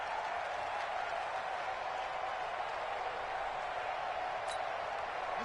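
Stadium crowd noise from a PS4 football video game, a steady broad roar of a home crowd that holds evenly throughout, fairly quiet in level, with no distinct cheers or voices standing out.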